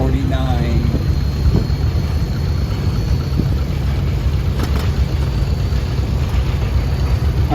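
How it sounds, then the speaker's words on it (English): A 1949 John Deere Model A tractor runs steadily through a summer show parade, its engine a constant low throb close by with faint background noise and no pauses. "we got Paul Kuhlman from Manteno, Illinois, with a John Deere Model A 1949."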